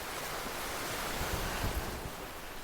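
Constant roaring rumble of wind buffeting a microphone, steady and loud throughout with a few heavier gusts in the middle.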